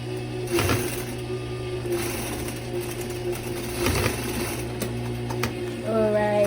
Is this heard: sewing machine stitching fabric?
yes